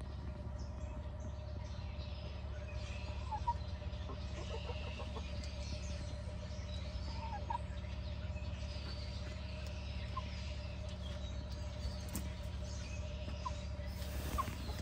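Hens and a rooster cluck and murmur close by at a backyard coop, soft intermittent calls over a steady low hum, with faint scratching and rustling throughout.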